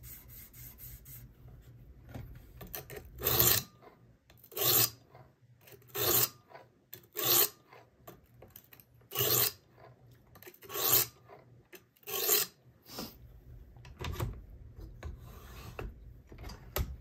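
A knife is drawn across a 320 grit abrasive on a Work Sharp Precision Adjust sharpener in about nine separate rasping strokes at a steady rhythm, close and clear, with quiet pauses between them.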